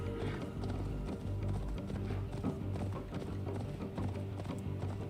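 Horse hooves clip-clop steadily in a video game, a close, even trot running the whole way through with no break.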